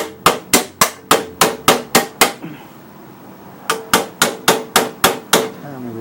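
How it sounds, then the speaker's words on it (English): Hammer driving a part onto a Husqvarna 7021P lawn mower: about a dozen sharp, loud metallic blows in a steady rhythm, a pause of roughly a second and a half, then another quick series of even strikes, no talking. "hammer this in"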